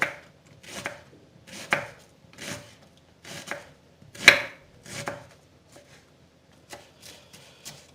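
A knife chops through onion in a steady run of crisp strokes, roughly nine cuts with short pauses between, close and clear.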